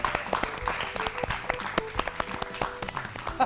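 Quiet applause with scattered, uneven claps plays for a few seconds, with a faint voice occasionally underneath.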